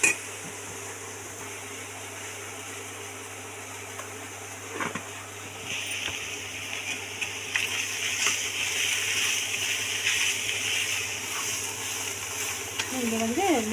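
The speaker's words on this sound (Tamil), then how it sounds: "இது எல்லாமே போட்டு ஒன்றா போட்டு எல்லாத்தையும் வதக்கிக்கலாம்" Onions, turmeric and spices sautéing together in a pan for a Tamil fish curry, a steady soft sizzle with occasional stirring scrapes that grows a little louder midway, with a brief voice near the end.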